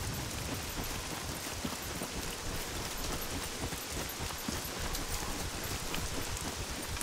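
Steady, dense rain falls throughout the SCUM video game scene, a continuous broadband hiss of drops pattering on surfaces with no voices over it.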